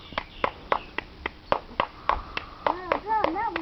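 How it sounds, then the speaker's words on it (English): A small audience at a chicken circus claps for a performing hen in a loose run of separate, fairly close claps, with a few high chirpy sounds near the end. "Give Tallulah a big clap"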